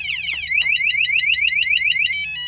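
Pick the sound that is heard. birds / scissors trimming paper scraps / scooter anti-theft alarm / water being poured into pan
scooter anti-theft alarm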